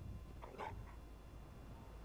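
A dog whimpers and gives a short yip in Fallout 4, one brief, faint vocal burst near the start over a low steady background hum.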